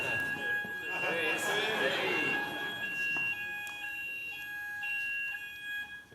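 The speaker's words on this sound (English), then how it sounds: "is that the fire alarm?" A fire alarm tone in a conference room during a talk, sustained steady pitched beeping held at moderate distance under a room full of voices and a presenter speaking.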